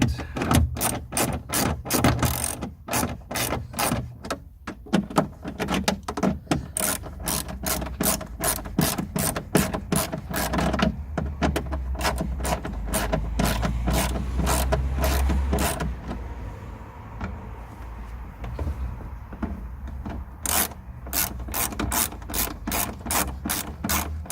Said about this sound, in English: reverse the spanner